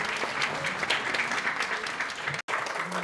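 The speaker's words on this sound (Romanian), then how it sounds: "Haideți să o aplaudăm!" An audience at a health and wellbeing conference applauds, steady dense clapping filling the room for a few seconds before it briefly cuts out.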